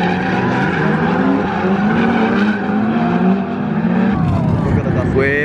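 A drift car runs hard at the Ebisu Spring Matsuri 2019 event, its loud engine revving continuously and close by, with tire squeal and skidding throughout.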